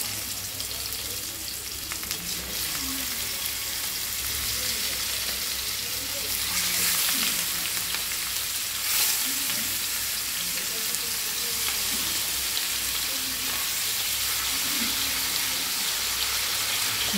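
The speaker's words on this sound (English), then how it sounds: "Now I will just shallow fry in front of you." Fish shallow frying in oil in a fry pan, a steady bright sizzle and crackle that keeps going throughout with faint clinks and stirring under it.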